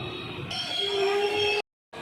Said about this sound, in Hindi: दूरी जंक्शन पर अराइविंग करती हुई श्री गंगानगर इंटरसिटी।